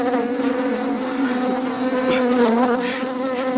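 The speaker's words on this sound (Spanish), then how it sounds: "¡Malditas moscas!" Swarming flies buzz loudly and continuously around a prison latrine where rotting meat draws them, a steady droning hum with wavering pitch and no voices.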